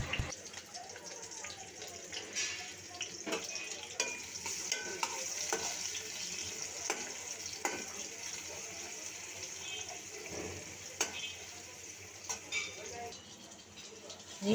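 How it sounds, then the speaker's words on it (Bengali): Chopped onion and garlic frying in hot oil until lightly golden, giving a steady faint sizzle with occasional stirring clicks close by, partly under a speaking voice. "পেঁয়াজ কুচি আর রসুন কুচি হালকা গোল্ডেন হওয়া পর্যন্ত ভেজে নেব"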